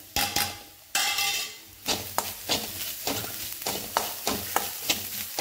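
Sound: grated coconut stir-fried with Kashmiri chili powder in pan

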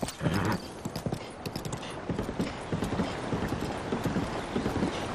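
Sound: horse hooves clip-clop in Zelda: Breath of the Wild video game

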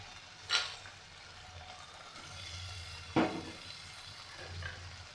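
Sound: fried potatoes and prawns added to cooking banana flower

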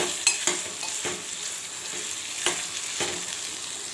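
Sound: stirring carrot and potato pieces frying in a pan

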